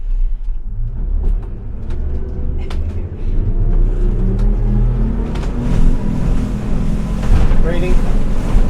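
A Merry Fisher 895 Serie 2 motorboat's engine rumbles and builds as it accelerates from standstill on open water, with hull and water rush rising steadily, close and loud.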